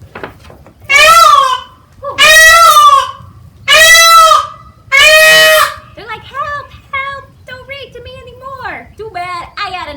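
Four loud, piercing peacock shrieks in a row, each about a second long, followed by quieter rising calls and squawks.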